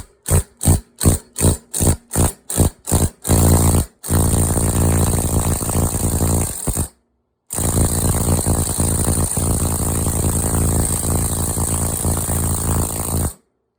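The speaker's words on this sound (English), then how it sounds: "Got a 5/8 socket on my impact here." A small impact wrench with a 5/8 socket works a bolt under a 1963 C-10 truck, starting with a string of short rapid bursts, then long sustained hammering runs separated by a brief pause.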